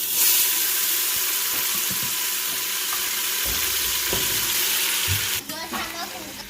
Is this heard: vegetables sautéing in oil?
yes